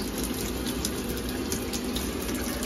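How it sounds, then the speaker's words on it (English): A faucet pours water into an American Standard jacuzzi bathtub being filled to the jet level, a steady, close rushing gush with no voices. "So I filled up the tub up to the jetting point to see if there's any water leak."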